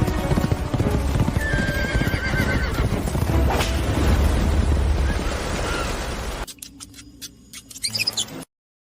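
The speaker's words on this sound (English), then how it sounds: "Quick, prepare a horse. No, get the fastest carriage." Hooves clip-clop rapidly and steadily while a horse whinnies and carriage noise rumbles, all loud and close; the sound cuts off abruptly near the end, leaving a few scattered knocks.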